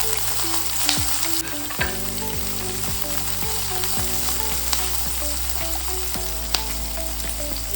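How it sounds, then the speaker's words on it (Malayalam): Onions sautéing in hot oil in a pan while a red enchilada sauce is being made, a loud, steady sizzle and crackle with occasional stirring clinks, no talking. "ഓയിൽ ചൂടായിട്ടുണ്ട്, ഇതിലേക്ക് ഉള്ളി ഇട്ട് കൊടുക്കാം. ഇനി ചെറുതായിട്ട് വഴറ്റിയെടുക്കാം."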